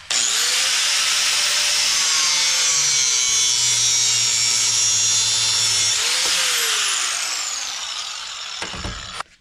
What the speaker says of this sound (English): since I have misplaced my hacksaw, I'll be using an angle grinder